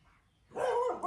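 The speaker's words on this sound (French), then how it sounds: "ça c'est le chien, vous l'avez entendu" A single short dog bark, fairly close, rising suddenly out of near silence.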